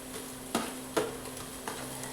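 Onions and tomatoes frying in a pan, a faint low sizzle punctuated by three clinking stirs of a spoon against the metal, spaced irregularly and close by.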